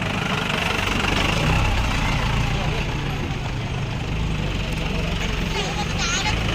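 Vehicle engines idle and rumble steadily on a forest road along a pilgrimage walking route to a temple, a continuous mid-to-low drone at moderate distance with faint voices in the background.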